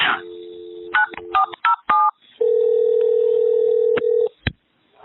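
Phone call being placed: a burst of short electronic keypad tones in quick irregular succession, then a long steady ringback tone with a brief click and a final short beep, loud and close with no voices.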